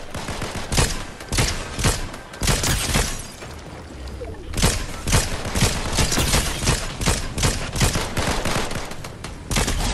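Rapid bursts of gunfire from a Fortnite Trios match, dense overlapping shots and booms filling the whole stretch, loud and close with brief lulls between volleys.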